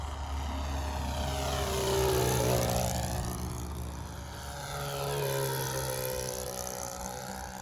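Sig Four Star RC model airplane climbing for altitude, a steady buzzing propeller engine drone whose pitch sweeps up and down as it passes overhead, moderately loud and alone.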